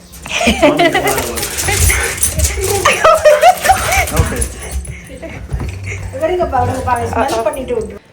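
A 12-week-old puppy whimpers and yips at a Christmas party at a friends' house, high excited cries close by, mixed with people talking over and between them.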